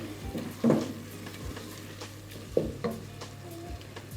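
Ingredients with a splash of lemon juice frying in a pan for a creamy chicken dish: a faint, low sizzle with a steady hum beneath, broken by a few sharp clinks of a utensil stirring against the pan.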